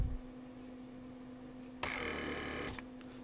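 A repaired Mercedes central door lock pump whirs as it builds pressure to push the trunk lid handle out, a steady electric motor drone of about a second under a constant background hum, with no talking.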